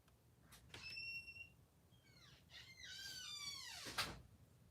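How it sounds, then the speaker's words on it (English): A creaky front door squeaks open with drawn-out, rising and falling whines in bursts, faint and nearby, then a soft thud; no one talks. "Y'all hear my creaky door?"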